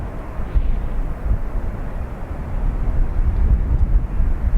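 An airliner roars on takeoff at Dublin Airport as a deep, steady, broadband rumble that swells slightly over a few seconds. Fairly distant with no voices.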